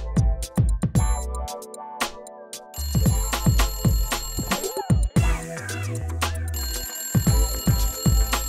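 A telephone rings in a room, its bright electronic ringtone repeating in loud bursts alongside music and other sharp tones.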